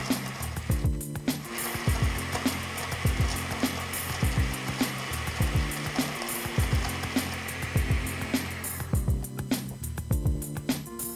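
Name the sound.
blender blending ice and sugar into a frozen mocha frappé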